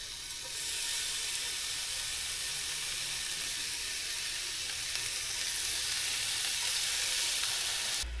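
Bacon frying in a pan at a campsite, a steady bright sizzle and crackle that fades in and holds at a constant close level, with no talking.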